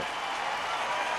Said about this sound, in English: giving Kershaw the standing ovation